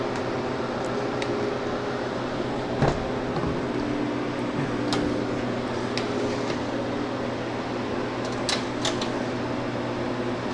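Steady mechanical hum of a freeze dryer running, with a constant low drone and faint clicks and ticks scattered over it.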